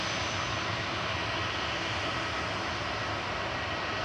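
An EasyJet Airbus A320 Classic's jet engines give a steady, even broadband roar at Manchester Airport, continuous throughout with no voices.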